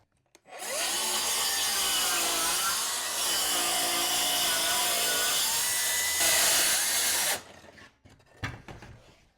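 A Milwaukee power tool bites into the old wood of a 150-year-old farmhouse, a loud, steady grinding roar that holds for about seven seconds before cutting off, with some faint clatter after it stops.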